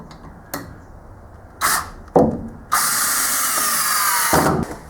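A power drill drives screws into wood for homemade storage shelves in a shipping container, with a few short bursts followed by one longer, loud sustained whir close by.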